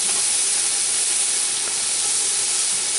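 Pot roast meat sears in a hot pot, making a loud, continuous hiss that holds steady without a break for the whole moment, close by and with no voices.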